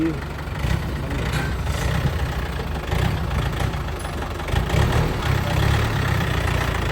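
A used Yanmar 45 hp tractor engine idles up close, a steady low rumble that runs unbroken with slight surges in loudness.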